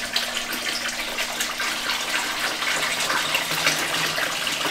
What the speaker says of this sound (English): you're just pouring some more of that tank water in from the tank just to feed this temporary tank up